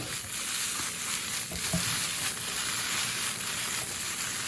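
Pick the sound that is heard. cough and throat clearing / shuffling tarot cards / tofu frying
tofu frying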